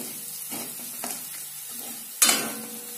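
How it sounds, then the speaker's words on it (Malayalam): Coriander and chilli powder fry in a pan for Kerala rasam, giving a steady, soft sizzle with a few gentle stirring strokes and one sharper, louder scrape near the end. "ഈ മല്ലിപ്പൊടിയും മുളക് പൊടിയും കുറച്ചെടുത്ത് വെച്ച് അത് ചേർത്ത് കൊടുക്കാം. അതൊന്ന് നല്ലോണം ഇളക്കി കൊടുക്കാം."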